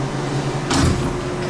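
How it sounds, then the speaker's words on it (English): The manual side door of a slow ThyssenDover Impulse hydraulic elevator slides with a short scraping rush over a steady machine hum. "Look at this, has got a manual door."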